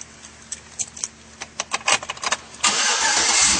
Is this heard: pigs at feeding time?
no